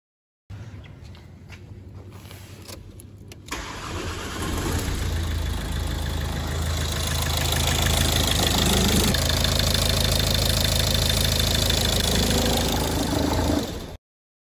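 Ford Mondeo 2.0 TDCI diesel engine after timing belt and water pump replacement cranks briefly, then catches and settles into a loud, steady, clattery idle that runs close by until the end.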